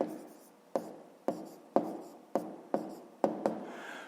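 A pen writes numbers by hand on paper while working a fifth-grade maths exercise. Seven evenly spaced, close scratchy strokes each fade quickly, with no talking.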